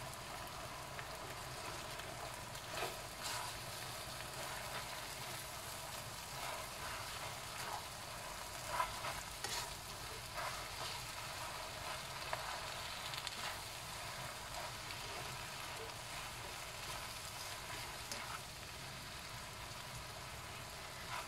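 Yellow noodles stir-fried with oyster sauce in a pan give a soft, steady sizzle with faint scraping, continuous and fairly quiet, with no talking.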